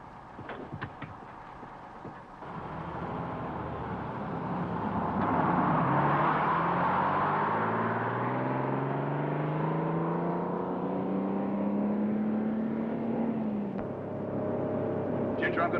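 A bus engine running and pulling away, its pitch climbing steadily as it gathers speed over a continuous close-range drone, with speech over the top.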